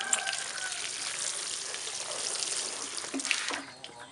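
Water poured onto spearmint cuttings in a pot, a close, continuous hissing splash that holds steady for several seconds before tapering off into quiet near the end.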